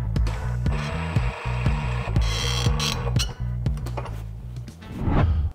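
An Atlas Copco power tool tightens a bolt from the head side to 175 newton meters in a lab test, giving a rapid, close series of rhythmic thunking impacts over a steady hum, then a rising whir at the end.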